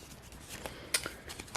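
Tarot cards riffled together by hand during a pick-a-card reading, a few soft papery flutters and flicks spread across a short quiet moment with no talking.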